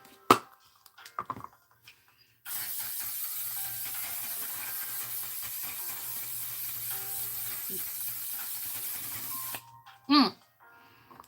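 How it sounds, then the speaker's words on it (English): Steady aerosol hiss from a spray can, sprayed in one continuous burst of about seven seconds, fairly loud and close, with brief speech and small handling noises before and after. "Now we spray."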